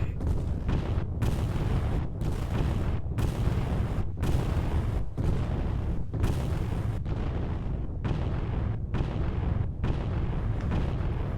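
A submarine launching a missile in the video game War Thunder, heard as a continuous loud roaring rumble broken by brief regular gaps, steady and close throughout.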